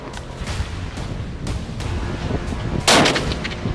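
Gunshots during a mountain lion hunt in Sonoma County, several sharp outdoor reports spread across a few seconds, the last one loudest and closest, with wind noise in between.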